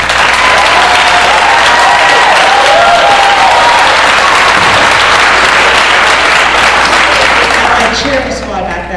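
Loud, close applause mixed with whoops and cheering greets a county teacher of the year at a public education event, a dense crowd roar that holds strong before tapering off near the end.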